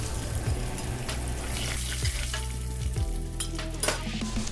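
Ajwain and dried red chillies frying in hot oil for a jackfruit-stem pickle, a steady close sizzle with periodic scraping stirs, alone without voices.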